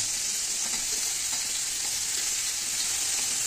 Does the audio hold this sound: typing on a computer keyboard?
no